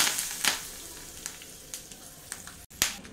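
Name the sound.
curry leaves and dried red chilies sizzling in rasam tempering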